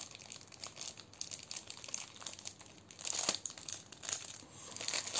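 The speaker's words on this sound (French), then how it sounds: "je vais prendre des bases de cartes" Paper card blanks from Action being handled for handmade scrapbooking thank-you cards, giving close, soft crinkling and rustling with a few sharper crackles, steady and quiet throughout.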